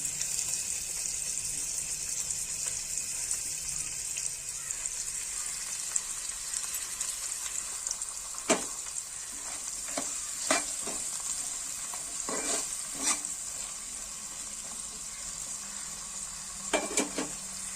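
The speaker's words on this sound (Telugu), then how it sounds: "ఉల్లిపాయలు అలాగే చేపలు కూడా చక్కగా నూనెలో వేగినాయి" Dried fish and onions fry in oil for a dried fish and brinjal curry, giving a steady, even sizzle, with occasional clinks and scrapes from stirring.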